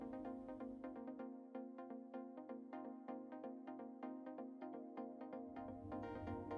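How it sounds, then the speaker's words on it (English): The Teleco Simple control panel gives a steady, continuous electronic tone during handset pairing. It is faint and even, with no voices around it. "The panel emits a continuous tone."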